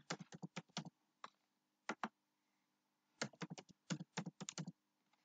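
A new password is typed on a computer keyboard, bursts of quick key clicks separated by short pauses, close and clear, with no one talking.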